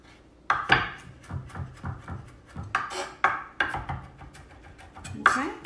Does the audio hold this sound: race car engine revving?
no